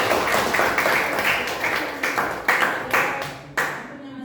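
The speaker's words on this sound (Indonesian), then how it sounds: "yang terakhir, tepuk tangan" A seventh-grade religious studies class claps hands together in a rhythmic pattern, sharp group claps in short bursts with brief pauses, ending in a final clap and then quiet.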